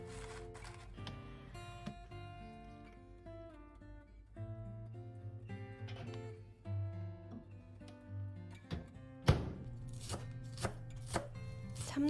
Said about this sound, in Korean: 참나물 줄기는 짧게, 잎은 듬성 잘라줘요.